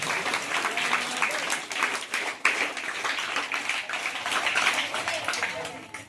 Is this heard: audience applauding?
yes